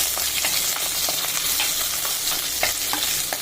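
Shallots, garlic and cumin sauté in a pan for a brinjal gravy, giving a continuous close sizzle with occasional scraping stirs cutting through the steady hiss.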